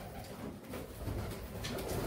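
Domestic pigeons coo softly and steadily in a loft in Uluberia, a low continuous murmur with no talking.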